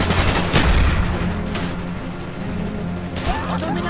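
A minigun fires in the first-person shooter Call of Duty Black Ops, loud sustained rattling bursts amid explosions and booming battle noise, with shouting voices mixed in.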